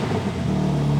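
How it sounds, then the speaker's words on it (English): A BMW M3 Touring engine revs up briefly, a loud low rumble rising in pitch, heard close and steady over about a second. "Let's give it a little rev."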